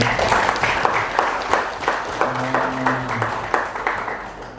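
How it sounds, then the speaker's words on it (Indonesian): Audience applause for Mas Sultoni, a poet and lecturer, at a book discussion event: a moderate round of clapping with distinct claps and a brief tone or voice-like sound in the middle. "Tepuk tangan buat Mas Sultoni."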